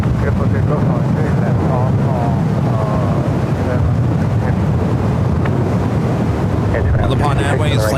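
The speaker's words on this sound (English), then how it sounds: "Flight 7 heading back to Tokyo Narita on the 777-300ER. Be taking off on the runway 28 left" A Boeing 777-300ER jet taking off from runway 28 left at San Francisco, a loud, steady roar of engines with heavy wind buffeting and a commentator talking over it.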